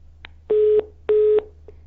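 A telephone line tone after the caller hangs up: two steady, mid-pitched beeps, each lasting about a third of a second and separated by a short gap, clear and alone over a faint low hum.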